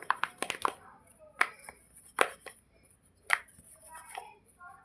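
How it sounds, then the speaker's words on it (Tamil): Soft chapati dough is rolled out by hand in a home kitchen: scattered light knocks and taps of a rolling pin against the board, quiet and close, with gaps between strokes. "சப்பாத்தியை திரட்டிக்க போகிறேன்."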